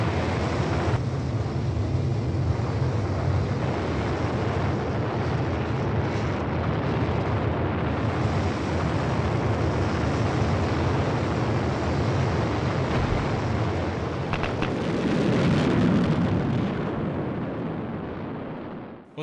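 In a Mars rover animation, the descent stage's landing engines fire with a loud, continuous roaring rumble that holds steady for nearly twenty seconds and swells slightly near the end, with no voices over it.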